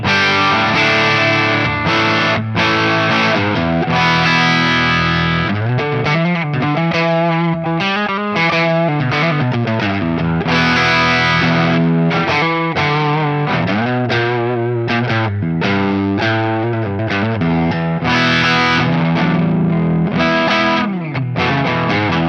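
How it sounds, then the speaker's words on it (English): PRS S2 Standard 22 electric guitar on its bridge humbucker, played through a Marshall Plexi amp for a crunchy mid-gain rock tone: steady driven chords and riffs ringing continuously, loud and close, with no talking. "I'm plugged into a Marshall Plexi, and I think the bridge pickup actually is fantastic"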